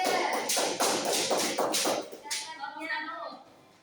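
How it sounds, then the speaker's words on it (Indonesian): Classroom applause for a student group, a burst of clapping from many hands that fades out after a few seconds, with voices mixed in. "beri aplaus untuk kelompok 3"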